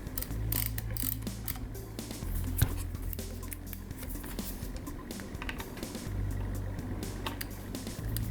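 An Andis Master hair clipper, powered on with its motor swapped out but not yet adjusted, buzzes in a low, steady hum broken by clicks and rattles as the mechanism is worked on nearby.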